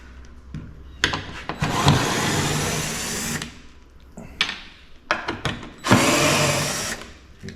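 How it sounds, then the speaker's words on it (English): Two loud bursts of a power drill whirring close by, drilling through material about 1/8 inch thick, separated by a short pause with light clatter and handling noise. "We'll get our drill in here."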